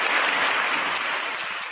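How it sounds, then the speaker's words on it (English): A small group claps briefly, a steady, fairly close patter of hands that holds level throughout the short stretch. "Let's give Canada a round of applause"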